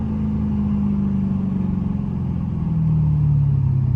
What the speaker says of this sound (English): Know y'all heard that downshift though, man.